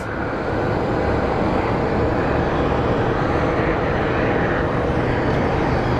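Loud, steady roar of a fixed-wing airliner at Phoenix Sky Harbor International Airport, a broad engine rumble holding close and constant throughout with no talk over it.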